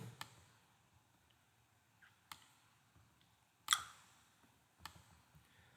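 A computer mouse clicks a handful of times, sparse, sharp and faint, with long quiet gaps between them, alone with no talk.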